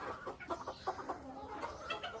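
Two farmyard hens cluck softly in a rapid series of short notes, faint and somewhat distant, with no talking.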